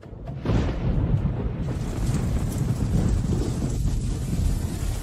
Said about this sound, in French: Il pleut dehors, je devrais rentrer.